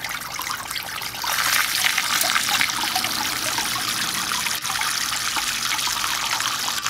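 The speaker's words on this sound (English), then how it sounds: "So I'm going to increase the flow a little bit." Water pours and trickles steadily through a fine gold recovery bowl as the flow is turned up, a close, continuous splashing wash heard alone.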